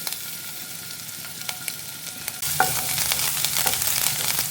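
Crushed ginger and garlic hit hot coconut oil midway, a quiet hiss suddenly swelling into a loud, steady crackling sizzle with scattered pops and stirring scrapes, up close.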